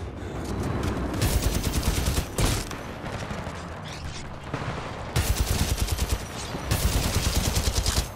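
Volt gun in Titanfall 2 fires in rapid automatic bursts. Each burst is a dense run of sharp, loud energy shots separated by short pauses and clicks.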